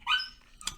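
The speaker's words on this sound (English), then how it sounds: "my dog is outside screaming right now" A dog outdoors gives one short, high yelping bark, quick and fairly faint, followed by a brief soft noise.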